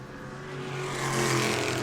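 Modified race cars roar around an oval track at New Smyrna during a heat race, a loud, steady engine drone that swells as the cars pass close by.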